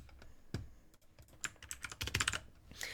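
Someone types quickly on a computer keyboard, a close run of clicking keystrokes in irregular bursts, getting busier toward the end, with no talking.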